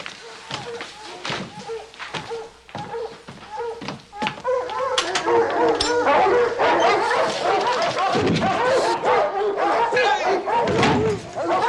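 A hound dog bays and barks repeatedly, with loud yelps and howls over a busy, noisy background, while people talk and call out.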